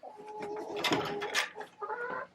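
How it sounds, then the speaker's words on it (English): Chickens clucking inside a coop on a misty, rainy day, with several birds calling close by in overlapping bursts of clucks and short squawks that fill the whole stretch. "We got a few birds in here."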